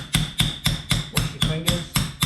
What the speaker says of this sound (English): You whack it with the multi-tool.